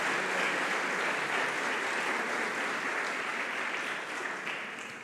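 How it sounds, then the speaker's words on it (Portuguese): A church congregation applauding loudly during a sermon, a dense and steady wash of many hands clapping that carries on throughout and fades a little toward the end. "Se você crê na sua oração, aplaude bem forte o nome de Jesus."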